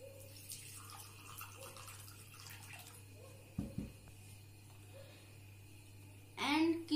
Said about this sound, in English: And fill water in it.